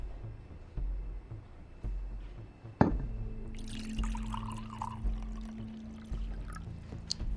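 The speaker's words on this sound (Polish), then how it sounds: "Całą butelkę wlał do tej szklanki." Whisky from a whole bottle poured into a glass in the video game The Wolf Among Us, a steady liquid pour with trickling over a low ambient hum after a sharp clink.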